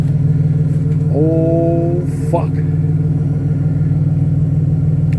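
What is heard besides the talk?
Pontiac Grand Prix GTP L67 engine revving through 3-inch exhaust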